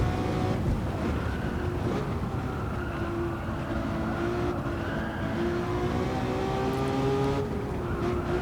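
Simulated race car engine in Gran Turismo 7 during a license test, a continuous loud engine drone with steady rising pitch and tire noise, no talking.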